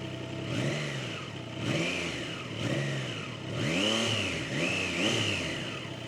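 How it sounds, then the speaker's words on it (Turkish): A 2025 Triumph Trident 660 engine revs repeatedly up close, five or six sharp throttle blips that rise and fall between short idling pauses. "sürüşe başlamadan önce şöyle sesini de bir dinleteyim istiyorum size motosikletin bakın"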